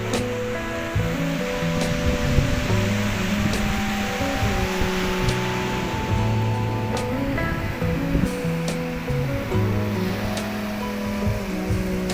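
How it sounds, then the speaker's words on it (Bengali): Gentle sea waves wash onto Mandarmani beach at low tide in a continuous, even surf hiss, with steady tonal humming layered over it throughout and no speech. "একদম বিচের ওপরেই এখন জল কম বলে সেই জন্য ঢেউ খুব একটা বেশি নেই"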